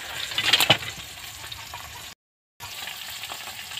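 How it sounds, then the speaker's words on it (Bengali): Lata fish fries in oil in a pan, a fairly quiet bubbling sizzle with a brief louder spatter near the start, then a short full cutout before the soft frying hiss resumes; nobody speaks. "তো দেখো মাছটা আমার ভাজা হয়ে গেছে"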